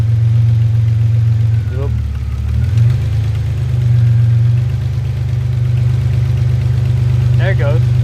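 A car with an idle fault runs loud and close, its idle dipping and sagging for a moment before it settles back to a steadier hum. A brief voice cuts in over the engine.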